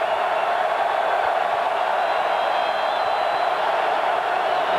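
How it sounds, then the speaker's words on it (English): Football stadium crowd roaring for the Nebraska defense, a steady, broad wash of cheering and noise that holds evenly throughout, distant and massed with no single voices standing out. "And now the crowd getting into it for the Nebraska defense."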